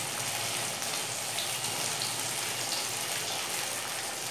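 Potato bread rolls frying in hot oil give a steady, dense sizzle that holds at an even level throughout, with no talking.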